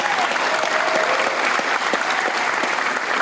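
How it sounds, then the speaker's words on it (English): A conference audience at an opening session applauds, dense clapping filling the room steadily throughout at a fairly loud level, with a few faint voices mixed into the crowd noise. "Make some noise for yourself."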